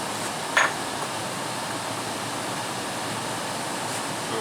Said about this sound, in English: Is your water off? You turning the water off?